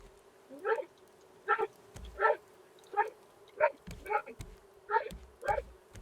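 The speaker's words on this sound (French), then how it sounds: "C'est chez qui le chien là?" A dog barks repeatedly in the background of an online voice chat during a game session, short sharp yaps at irregular intervals, faint and slightly distant, with a steady hum beneath.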